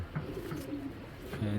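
Pigeons coo in soft, low, rolling bursts, steady and close, with a louder swell near the end.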